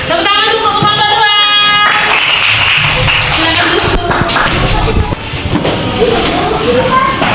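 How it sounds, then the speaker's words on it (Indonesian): Students in an elementary school classroom clap for a presenting group, with a brief scattered round of hand claps heard under loud talking voices. "Tepuk tangan untuk kelompok 2"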